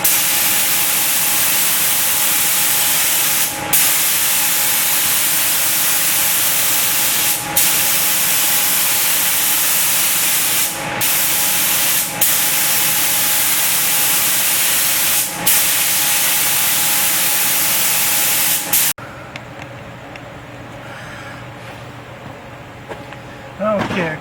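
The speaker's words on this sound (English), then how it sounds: "This is going to be the final primer with urethane primer." Spray gun laying urethane primer onto the trunk of a 1972 Dart, a steady loud hiss broken by brief pauses between passes, stopping near the end.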